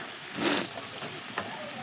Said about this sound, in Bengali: এখানে দিয়েছি কাঁচা লঙ্কা আর টমেটো কুচি দিয়ে লবণ দিয়ে এটাকে ভালো করে একটু কষিয়ে নেব, একটু ভাজা ভাজা করে নেব